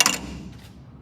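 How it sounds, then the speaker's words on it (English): A brief tinkling drip of coolant leaking from the upper radiator hose of a 1956 Ford Thunderbird at the start, followed by faint light ticking against a low background hum. "we're wet here in the upper hose because it's dripping onto the bypass"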